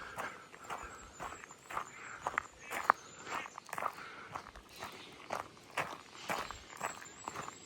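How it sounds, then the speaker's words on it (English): Feet crunch steadily along a gravel path on a countryside walk into a churchyard in Pirton, Hertfordshire, each step a close, rhythmic scrunch with no talking. "nice, very satisfying sound of feet on gravel"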